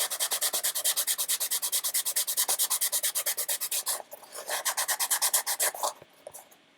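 Steady rhythmic back-and-forth rasping as a cosplay piece is sanded by hand, close and loud, with a short break before the strokes resume and then trail off.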